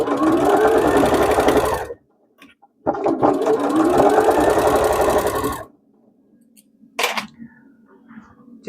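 A sewing machine stitches a seam on a scrappy denim bag in two long, loud, steady runs with a pause between them, then a short final burst.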